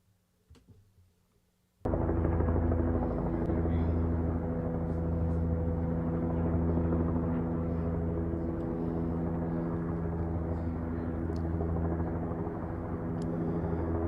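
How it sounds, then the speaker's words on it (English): A helicopter roars in suddenly after a brief quiet moment, its steady rotor drone loud and continuous as it passes close overhead. "That sounded very much like a helicopter."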